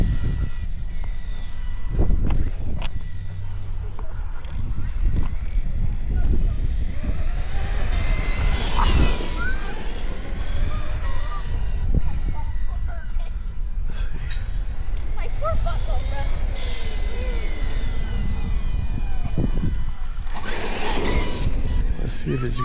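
A Hoshiplay 518 Raptor 2 brushless RC car on a 3s-4s battery drives about, its high electric motor whine repeatedly rising and falling through bursts of acceleration, with tire and gear noise over a rough background.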